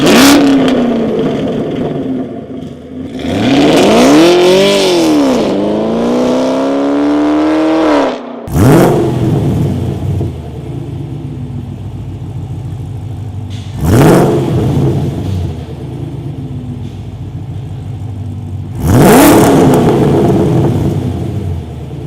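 A Camaro SS with an aftermarket exhaust revs loudly, first in a long rising and falling surge, then in three short sharp blips between stretches of deep idle.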